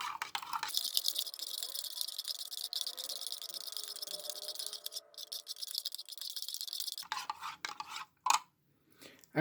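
A clean spoon stirs French Army RCIR ration drink powder into hot water, a steady close scraping and swirling against the cup that runs for several seconds, pauses, then ends with a couple of louder taps.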